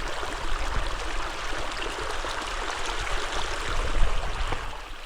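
A flowing stream in Kalahandi, Odisha rushes continuously with a dense, even watery hiss and gurgle, steady and fairly close throughout with no talking.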